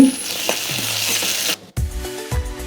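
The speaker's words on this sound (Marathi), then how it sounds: "भाजून घेऊया मिरची आणि लसूण छानपैकी अशी तेलामध्ये भाजून घ्यायची" Green chilies and garlic roasting in a little oil for a methi curry, a soft sizzle with a few stirring taps, then a brief drop-out and louder clattering scrapes near the end, close by, without talk.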